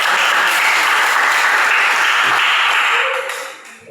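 Classroom applause from a group of students, a dense steady clatter of clapping hands that holds strong for about three seconds and then tapers off near the end.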